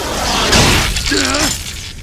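Strike smashing against a starship window in the PS2 game Xenosaga Episode I, a loud crashing impact with bright, glassy breaking noise and a brief warbling tone, set against a dense background wash.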